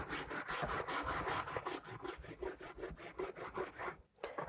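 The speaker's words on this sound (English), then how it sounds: "I'm going to use a wire brush because I have quite a bit of rust pitting on the underside of this bar" A wire brush scrubs rust pitting from the underside of a metal bar on a knitting machine in fast, rhythmic rasping strokes, close and steady, before stopping abruptly near the end.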